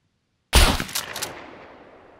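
A single loud shotgun blast loaded with normal buckshot in the SCUM video game. It breaks in sharply after silence and leaves a long, fading echo tail.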